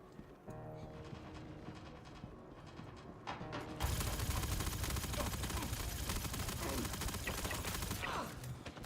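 Rapid gunfire from a Fortnite match rattles as a quieter stretch gives way to a sudden, loud, sustained burst of dense shots and crackling that continues to the end.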